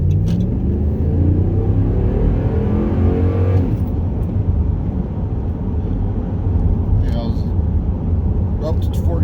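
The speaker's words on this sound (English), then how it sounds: "this truck, it really has some get up and go" A truck accelerating hard, its engine climbing in pitch for a few seconds before settling into a loud, steady roar and rumble that carries through to the end.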